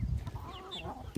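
Chickens cluck in a rapid, close run of short calls, with a few higher chirps mixed in, as a flock of hens waits to be fed alongside turkeys.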